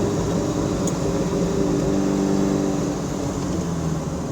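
A 1976 Alfa Romeo GTAm track car engine drones steadily from inside the cabin with metal footwells, a constant loud mechanical hum with shifting tones as it is downshifted into third.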